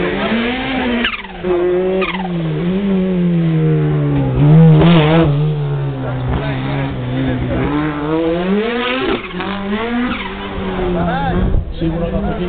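A Ford Sierra RS500 at a motor show in Patras revs hard and skids, engine tone rising and falling with tire scrub, loud and close, with people talking over it throughout.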